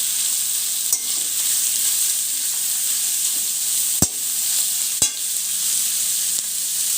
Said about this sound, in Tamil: நல்லா மிக்ஸ் பண்ணி விடுங்க.